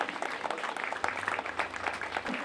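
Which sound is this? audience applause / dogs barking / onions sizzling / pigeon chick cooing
audience applause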